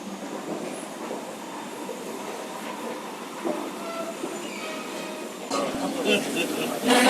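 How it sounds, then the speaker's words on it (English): An airport transit train rolls along steadily with a broad rumbling hum and faint clatter, growing a little louder and busier toward the end. "And then I get on the transit train along to my aeroplane."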